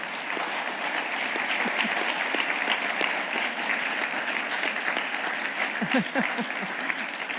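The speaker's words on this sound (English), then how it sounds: "a shout out and clapping for Vicki Bruin" An audience at a talk on LGBTQ justice claps steadily for Vicki Bruin, an even burst of many hands from start to finish with a brief voice near the end.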